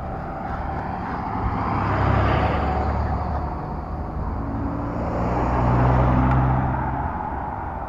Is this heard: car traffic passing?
yes